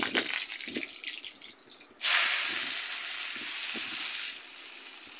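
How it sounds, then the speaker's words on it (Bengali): Chopped onions go into a hot pan of oil with green chilli and garlic and hit it with a sudden loud sizzle that settles into steady, close frying, after a few quieter clinks and stirs. "পেঁয়াজটা একটু ভেজে নেব"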